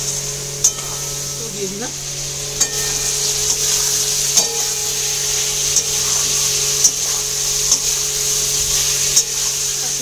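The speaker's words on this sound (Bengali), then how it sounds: "এবার এই মশলাটা দিয়ে ফুলকপিটাকে ভালো করে কষিয়ে নিতে হবে।" Cauliflower sautéing with spice masala in a pan for a Bengali prawn and cauliflower curry, a steady close sizzle with repeated scraping stir strokes throughout, a voice briefly speaking at the start.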